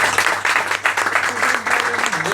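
A crowd applauds after a political speech at a year-end toast gathering, steady dense clapping with a few voices mixed in, continuing throughout.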